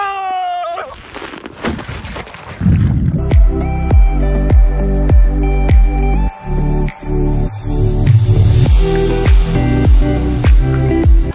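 Water rushes down a fun slide at a water park in Delhi, a steady loud gushing stream with repeated rhythmic splashing thumps throughout.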